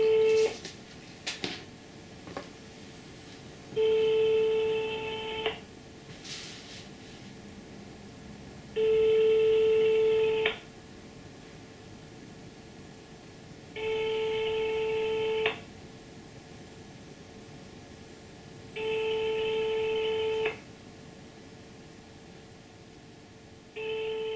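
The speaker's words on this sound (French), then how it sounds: "on téléphone dès maintenant pour essayer d'avoir des réponses" A French telephone call: a few faint clicks at the start, then a steady ringback tone of long, even beeps that repeat about every five seconds, clear against a quiet background hiss.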